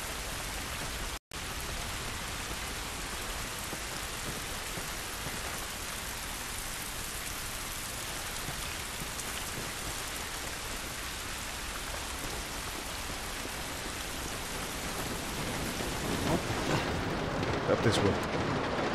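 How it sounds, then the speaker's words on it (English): Steady rain pours down in The Last of Us Part I, a dense, even hiss that holds for the whole stretch with no talk, swelling slightly louder and splashier near the end. "This rain ain't gonna do us any good."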